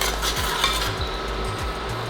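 A garlic parmesan sauce made with garlic salt and grated Parmesan is stirred in a pan over low heat, a steady close sizzle and simmer with a spoon scraping in slow repeated strokes.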